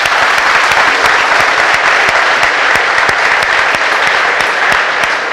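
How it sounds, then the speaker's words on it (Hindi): An audience at a college launch event in Raipur breaks into loud, sustained applause, dense clapping that carries evenly from start to finish. "हमको उनको भी ताली बजानी चाहिए।"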